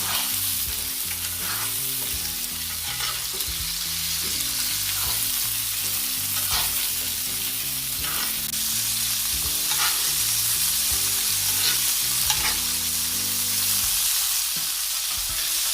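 Ribeye steak frying in butter with garlic and rosemary, a steady loud sizzle with intermittent stirring and basting scrapes throughout, no talking.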